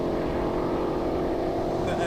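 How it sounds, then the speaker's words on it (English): Ford Shelby muscle car engine whine, a loud sustained droning tone from the car running hard on a track, steady throughout. "Oh, listen to that whine. The beautiful whine."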